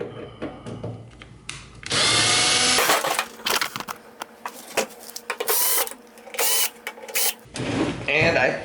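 A power screwdriver whirs in short repeated bursts while screws are backed out of a microwave's metal cover. Metallic clicks and handling noise fall between the bursts, and the sound is close and fairly loud.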